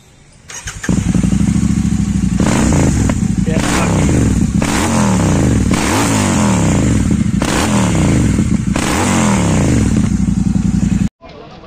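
A motorcycle engine revs loudly and repeatedly on a Sunday night ride in Gujarat, sweeping up and down in pitch in steady cycles, close to the microphone with an unbroken roar before cutting off.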